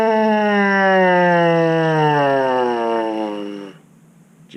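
A trombone mouthpiece buzz held alone and loud, a reedy nasal drone that glides slowly downward in pitch for about four seconds and then cuts off, leaving quiet room noise.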